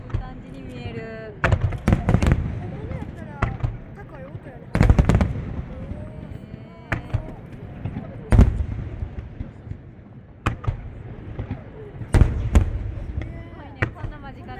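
Fireworks at the Osaka Expo display burst in loud, sharp booms every second or two, some in quick pairs, with crackling tails and excited voices talking between the blasts.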